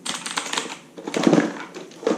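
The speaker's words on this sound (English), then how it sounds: "Another mechanical keyboard is actually a Aukey KMG9, I believe. MX Blue." Typing on an Aukey KMG9 mechanical keyboard with MX Blue switches, rapid loud clicky keystrokes in quick bursts, close up with no talking.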